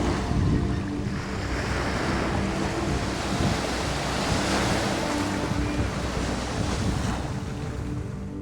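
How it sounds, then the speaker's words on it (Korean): Ocean waves wash steadily onto the sandy Saekdal beach on Jeju Island, a broad continuous surf roar with wind rushing across the microphone. "파도 소리를 들으며 모래밭을 걸어봅니다"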